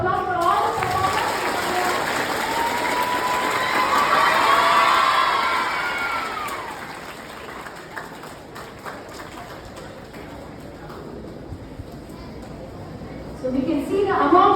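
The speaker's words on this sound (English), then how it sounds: "Let us have a big round of applause for all the performers." At a school Independence Day event, a large crowd cheers and claps loudly, with children shrieking and shouting, the roar swelling then easing into scattered noise before rising again.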